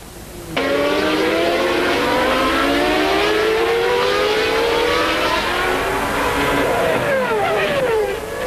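A 1992 Formula 1 car's high-pitched engine screams from an onboard position, revs climbing steadily through the gears with sharp upshifts and a downshift near the end, loud and continuous.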